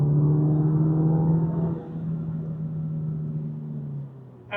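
An Alfa Romeo pulls hard in sport mode with an aftermarket throttle-response module fitted, its engine note climbing then easing, heard steadily from inside the car without talk.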